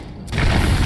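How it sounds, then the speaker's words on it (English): A smoke grenade in Metal Gear Solid 4 goes off with a sudden dense hiss and rumble after a quiet click, the wide rushing burst filling the rest of the moment. "Smoke grenade."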